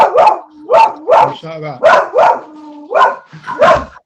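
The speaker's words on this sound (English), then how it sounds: "I've got 3 dogs in here, and every time someone comes through the door, this one just goes mental." Indoor dog barking excitedly in repeated bursts, one of three dogs in the room reacting to someone at the door, with people talking over and between the barks.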